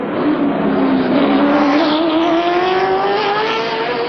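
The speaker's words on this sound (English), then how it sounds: "You can see the cars are sweeping by well on the outside." Race cars sweep past on an oval track, a loud, continuous engine roar rising steadily in pitch as the pack goes by close with no talk.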